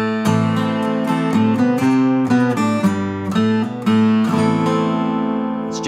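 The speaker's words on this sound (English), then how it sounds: "The harp add literally turns your six string into a 12 string." A six-string guitar fitted with a Harpadd clamped under a capo, strummed through chords so it rings with a shimmering, doubled twelve-string jangle, loud and close, no voices.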